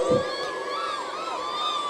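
A crowd shouting and cheering at a speech by Pawan Kalyan, a burst of voices near the start followed by a steady wash of overlapping yells and whistling cheers, fairly loud and continuous.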